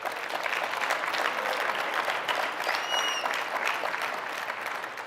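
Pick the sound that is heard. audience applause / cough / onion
audience applause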